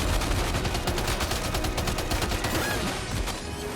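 Rapid bursts of gunfire from a Death Stranding 2 firefight crackle almost continuously, loud and close, easing slightly toward the end.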